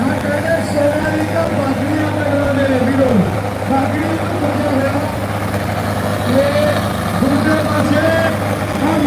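A tractor engine rumbles steadily at a tractor pulling contest (tochan) in Handiaya, Barnala, Punjab, half-buried under loud amplified commentary and crowd voices throughout.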